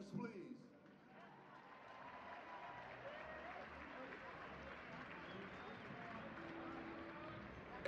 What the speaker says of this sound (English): Can we clap for those students, please?